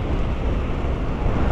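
Steady broadband wind buffeting the microphone outdoors in Algeria, a continuous rushing roar with no pauses, loud and close throughout.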